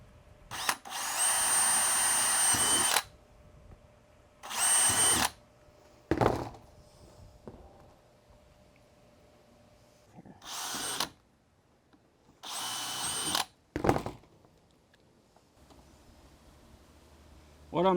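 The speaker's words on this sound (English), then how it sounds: "I'm going to drill some holes in a few different spots around the well" A power drill whirs in several separate bursts, some long and some short, close by, drilling holes in a floating bait pen, with knocks and handling noises and a voice between them.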